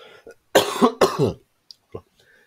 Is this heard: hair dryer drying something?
no